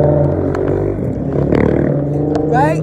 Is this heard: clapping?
no